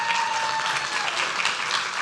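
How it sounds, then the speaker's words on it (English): Audience members at a city council meeting applaud an elementary school prize winner, a short, even spell of dense clapping heard close and steady, with no talk over it. "All right, round of applause."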